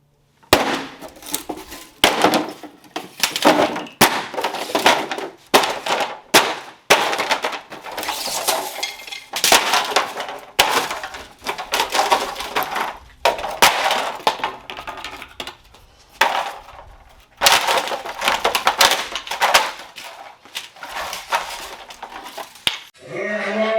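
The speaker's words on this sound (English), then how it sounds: "I am ready to do the smashing of the guitar." A cheap Temu guitar being smashed: repeated loud, sharp wooden cracks and crunching impacts in irregular bursts, with short pauses between blows and splintering clatter throughout.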